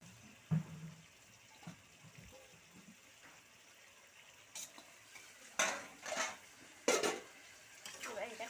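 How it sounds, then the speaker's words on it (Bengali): Chicken stirred and sautéed in a pan with coriander and green chilli paste, faint sizzling under a run of spoon scrapes and clinks that grow busier and louder toward the end, with no talk. "এবার মাংসটা দিয়ে কষাই।"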